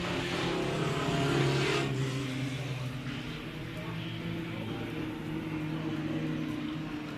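Race car engines droning around the oval at Big O Speedway during a Hornet class heat race, a fairly distant, moderately quiet whine that swells briefly then settles into a steady lapping hum.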